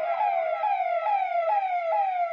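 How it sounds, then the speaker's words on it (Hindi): Police vehicle sirens wailing as the cars pass through village lanes, a loud, steady, repeating falling tone cycling about every half second and heard alone. "बड़ी संख्या में पुलिस की गाड़ियां भी सायरन बजाते हुए गाँव की गलियों से गुजरी"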